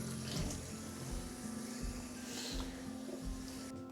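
Green beans being rinsed under a running kitchen tap, with a steady close rush of water splashing into the sink throughout and no voices.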